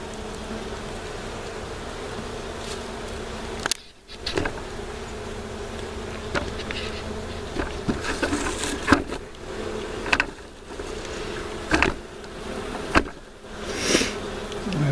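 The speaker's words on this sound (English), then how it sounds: "Inside of a beehive." A dense, continuous hum of bees buzzing inside an open beehive full of honey, close and loud, with brief rustles and bumps from the hive being handled.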